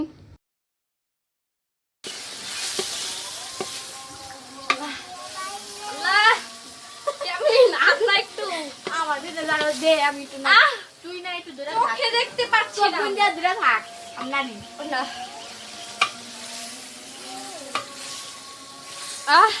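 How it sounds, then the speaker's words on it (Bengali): Biryani masala stirred and fried in a pot at an outdoor picnic, with a steady sizzle and repeated spoon scrapes against the pot, close and busy, while a voice talks over it. "এর মধ্যেও নাড়তে নাড়তে মশলা অ্যাড করতে হবে।"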